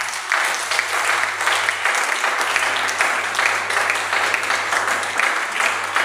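A church congregation at a Sunday worship service breaks into loud, sustained applause, dense clapping filling the room for several seconds with a low hum underneath.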